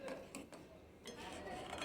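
Sugar is stirred into a pot of milk payesh, giving faint, close scraping from the utensil with a few light clinks against the pot, at a very low level.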